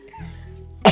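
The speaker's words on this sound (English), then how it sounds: "I got a cough." One sharp cough bursts out close and loud at the very end, after a low steady hum.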